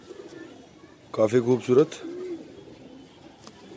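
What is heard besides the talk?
Punjabi Malwai pigeons cooing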